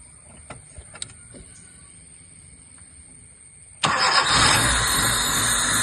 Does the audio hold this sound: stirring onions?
no